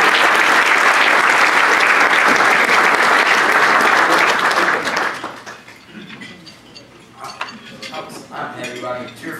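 Audience at a Rotary club meeting applauds loudly and steadily for about five seconds, with dishes and cutlery clinking, then the clapping fades into quieter room noise and scattered table clatter.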